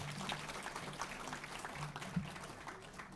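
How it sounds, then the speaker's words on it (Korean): Faint, steady applause from an audience at a political forum lecture in Songpa, Seoul, sustained clapping with a few louder claps standing out, heard at a distance. "다시 한번 큰 굉장히 박수 보내주시기 바랍니다"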